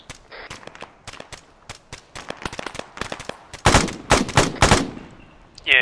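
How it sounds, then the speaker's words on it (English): Bursts of automatic and single gunfire in the Arma 3 video game, rapid cracks in uneven volleys, some distant and some close and loud, with no talking. "We have shots coming from the north."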